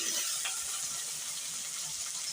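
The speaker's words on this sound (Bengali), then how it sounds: "পেঁয়াজগুলো তারপরে একটু আমি কিন্তু ভেজে নেব বন্ধুরা" Chopped onions with cumin seeds frying in a pan give a dense, steady hiss of sizzling oil, close and even throughout, with no voices.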